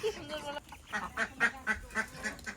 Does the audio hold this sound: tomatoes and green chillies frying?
no